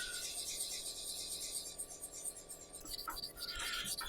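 Steady, faint rasping of sandpaper cross-sanding a small pen, rubbing back and forth continuously and close, with a few light knocks near the end.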